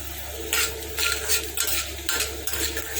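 Chana dal and urad dal fry in hot oil in a pan while being stirred, with a steady close sizzle and scraping bursts arriving in a loose rhythm about every half second, no voices.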